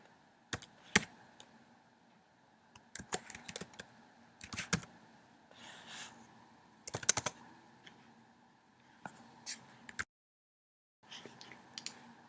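Bursts of fast typing on a computer keyboard, close and quiet, with scattered clicks, short pauses and a brief silent gap, no talking.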